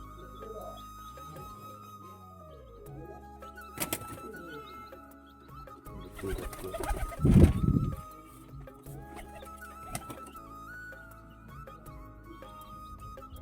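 Pet pigeons in a home loft, with soft low cooing murmurs under ongoing background noise and a brief louder bustle midway.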